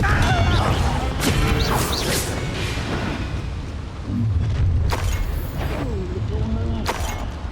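Blasting spell explosions from the Hogwarts Legacy game on Switch: loud crashing blasts and whooshes in a dense battle mix, with sharp impacts near 2 and 5 seconds, while a voice speaks over it.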